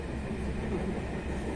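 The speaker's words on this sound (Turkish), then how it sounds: "Trenimiz bu." A train on the Doğu Ekspresi route toward Kars runs along the rails with a steady, even rumble and faint clatter from the carriages, heard from inside at moderate volume with no voices.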